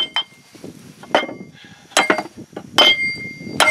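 Hammer blows knock a pushed-on collar off a gear during disassembly of a B414 series tractor transmission, sounding as several sharp metallic clinks and smacks in uneven bursts, close and loud, with no talk.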